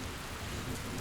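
Steady rain patters softly in a brief, even wash of noise, with no voices.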